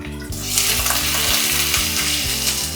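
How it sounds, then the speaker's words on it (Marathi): Onion and garlic, added after bay leaf and cinnamon, sizzle and fry loudly in hot oil for a home-cooked green chicken dish, a steady close crackle with a tonal hum layered underneath and no talking. "हे बघा तेल छान तापलेलं आहे आता आपल्याला टाकायचं आहे कांदा आणि लसूण"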